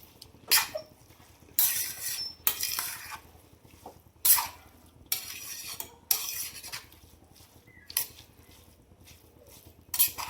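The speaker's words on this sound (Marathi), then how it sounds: "आता आपण या स्टेपला दूध टाकून घेऊया आणि छान मिक्स करून घेऊया" Milk being stirred into carrot halwa in a pot, with a series of sharp spoon scrapes and clinks against the metal at irregular intervals, separated by quiet gaps.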